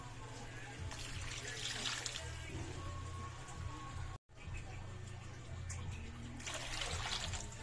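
Two glasses of water trickle and splash into a cooking pot for noodles with sardines, in two bursts, with a low hum underneath and a brief break between pours.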